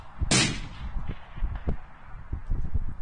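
A rifle shot on a range at 300 yards gives one sharp, loud crack early on, followed by faint scattered thumps and rustling.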